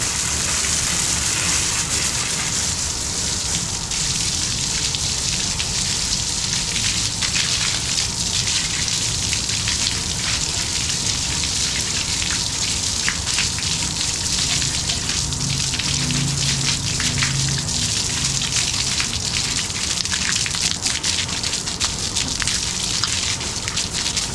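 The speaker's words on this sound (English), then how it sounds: "Now we get to rinse it down." Water sprays steadily over a bike being rinsed down, a constant loud hissing gush with spattering on the frame that never lets up.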